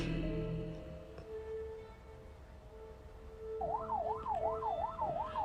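An ambulance siren wails in rising and falling cycles over a steady low rumble of traffic, fairly close and growing louder toward the end.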